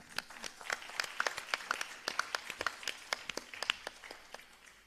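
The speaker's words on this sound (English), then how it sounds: "let's have a huge round of applause" A small audience at a Bharatanatyam arangetram claps for a performer. The claps are sparse and distinct and come quietly from a distance.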